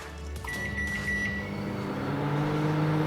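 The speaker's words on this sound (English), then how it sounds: "I'll just pop that in the microwave." Microwave oven running while melting gel wax for candles, a steady loud hum with a brief beep-like tone near the start, continuous throughout with no talking.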